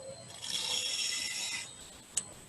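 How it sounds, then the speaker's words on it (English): A bench grinder sharpening a tool bevel, giving a steady, fairly quiet whine with a faint rasp of metal on the wheel, then easing off before one short click. "turn the grinder on"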